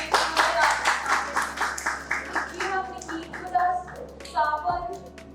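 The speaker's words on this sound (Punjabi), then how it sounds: "ਪਲੀਜ਼ ਜ਼ੋਰਦਾਰ ਤਾਲੀਆਂ ਇੱਕ ਵਾਰ" Enthusiastic audience clapping at a press conference for a Punjabi web series, brisk rhythmic claps near and loud for most of the clip, with a voice and a few other sounds mixed in toward the end.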